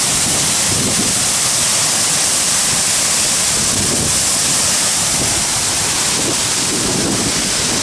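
A steady, dense roar of rushing water from a waterfall in Bali or Lombok, Indonesia, fills the whole clip, loud and close, with no voices.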